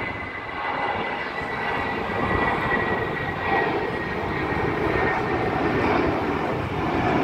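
A JSX Embraer E135 regional jet passes by as a steady, broad roar that stays loud and even throughout, with no talking.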